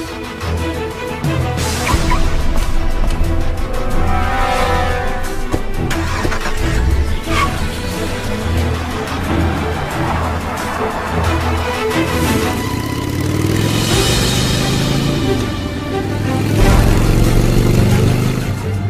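A car engine cranks and starts, then revs loudly and accelerates away in pursuit, the engine note rising and swelling over several seconds in a close, sustained roar.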